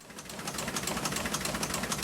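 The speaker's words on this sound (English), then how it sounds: "That's the sound of the historic press in the Vineyard Gazette offices in Eggertown printing the paper." A historic newspaper printing press at a newspaper office runs steadily, giving a fast, even, rhythmic mechanical clatter that is fairly quiet and continuous, with no voices over it.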